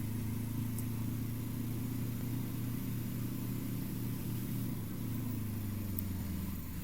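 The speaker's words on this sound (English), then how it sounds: "That sounds a lot like a real life engine." A Dragon engine in the video game Trailmakers revs steadily throughout, a loud, continuous low mechanical drone that sounds like a real car engine, with no speech over it.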